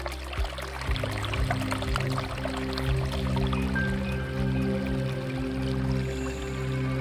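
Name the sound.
water flowing in the Orcia River, Tuscany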